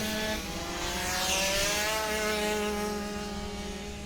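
Race cars passing on a track at night, a strong engine whine with rising harmonic tones as cars sweep by, the roar swelling mid-way and then easing slightly.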